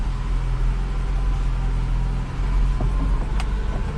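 Vintage 1968 BMW 1602 driving slowly with its hood open, a steady low engine drone and road rumble throughout, with a couple of faint knocks near the end.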